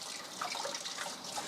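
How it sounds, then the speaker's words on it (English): Tap water runs steadily into a sink while a few small items are rinsed under the stream, a soft, continuous splashing hiss nearby with no talking. "Rinse these out just a smidge."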